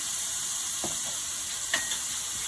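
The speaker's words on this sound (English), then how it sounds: "So I have a little less than a tablespoon of oil in here. And I am just going to put part of the shrimp in." Shrimp frying in under a tablespoon of oil in a pan, a constant close hiss of sizzling with a couple of faint utensil touches, no talk.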